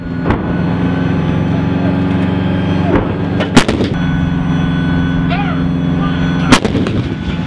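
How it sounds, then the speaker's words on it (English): An M109A6 Paladin howitzer firing at a live-fire event, heavy booming blasts over a steady loud rumbling background, several sharp reports heard at a distance. "The M109 A6 Paladin howitzer was one of the largest and loudest weapons to fire that"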